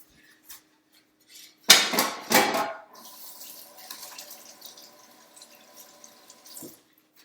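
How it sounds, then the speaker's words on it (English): Water gushes from a kitchen tap into a sink as hands are washed with soapy water, two loud bursts of splashing followed by a softer trickle and faint clinks that fade out. "I'm gonna put all this in the sink and wash my hands with soapy water"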